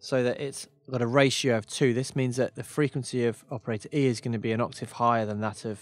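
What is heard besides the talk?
No distinct noise like a dog, phone or traffic.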